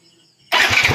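A Yamaha Vino motorcycle engine cranks and catches halfway through after a quiet lead-in, settling into a loud, close, steady running rumble.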